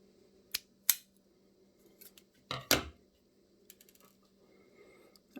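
Scissors snipping fishing line after tying bead stops, a handful of sharp close snips spaced irregularly, quiet and alone.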